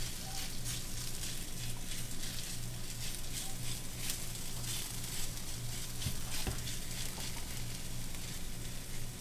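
Chicken sizzles loudly in a hot pan, pressed flat with a spatula, with a continuous close crackle of frying and a few light scrapes.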